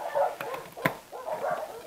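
Several dogs barking near a taxi motorcycle stop, a few sharp barks and yips rising over a noisy background in quick succession.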